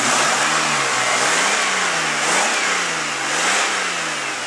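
The engine of a 1995 Oldsmobile Cutlass Supreme runs steadily close by, with a few gentle revs rising and falling over a constant mechanical hum.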